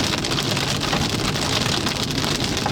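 Dense, loud hail pelts surfaces nonstop during a Kansas severe storm, a steady roaring clatter of impacts with no pauses and no voices.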